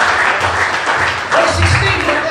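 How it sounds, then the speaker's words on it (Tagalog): A church congregation applauds together, a steady wash of clapping with voices mixed in over it. "Palakpak muna tayo sa Panginoon."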